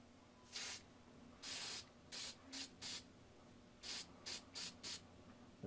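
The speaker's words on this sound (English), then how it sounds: "I'm just going to turn and spray the vehicle from here." Spray can of satin finish misting a model snow plow in short hissing bursts, about ten quick sprays of varying length separated by brief quiet pauses, close and fairly soft.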